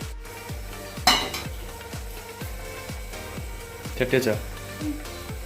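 A cooking pot clanks down onto a home stove while chicken biriyani is being made, with two sharp metallic clatters over steady rhythmic ticking, and voices talking in the background.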